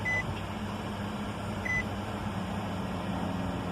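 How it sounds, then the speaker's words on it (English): A 2018 Nissan Rogue chimes with two short, clear electronic beeps about a second and a half apart, over a steady low interior hum with no talking. "Notice car starts beeping."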